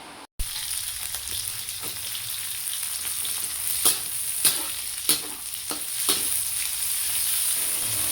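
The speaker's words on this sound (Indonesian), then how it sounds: "Nah kita tumis sampai cabenya ini agak sedikit layu ya." Sliced chili and garlic sauté in a frying pan with a steady bright sizzle, punctuated every second or so by the scrape and tap of a spatula stirring.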